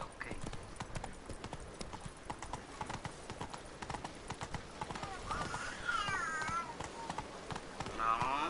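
Roach, a horse in The Witcher video game, gallops with a rapid, steady clip-clop of hooves at close range, a whinny rising near the end, and a voice talking over it.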